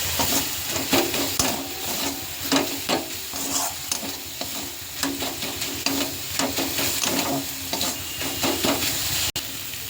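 Red amaranth greens sizzle in hot oil with green chili, a steady frying hiss broken by repeated scrapes and stirs of a spatula in the pan, close and clear with no talking.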